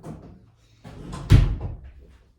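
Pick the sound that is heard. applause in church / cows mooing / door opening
door opening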